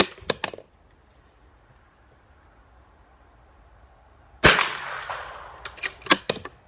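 A .22 LR rifle fires one sharp, loud crack that rings briefly, after a long quiet stretch. A few fainter clicks and knocks come before and after it.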